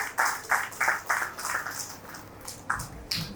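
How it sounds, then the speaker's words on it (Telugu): Audience at a 30th wedding anniversary and retirement celebration claps in bursts, the sound rising and falling in several waves of applause. "ఒకసారి గట్టిగా చప్పట్లు కొట్టాలండి ప్లీజ్."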